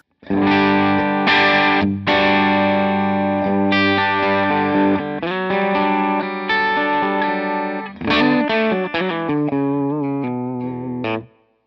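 A heavily distorted electric guitar through a Line 6 Helix amp modeler, master cranked, plays sustained chords and riffs, loud and saturated, with brief pauses between phrases and no voices.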